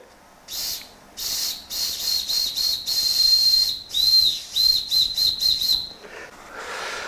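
A toy steam engine's steam whistle blowing in a series of short and longer shrill, high-pitched blasts with breathy hiss, close and loud, pausing between bursts before fading into a softer hiss.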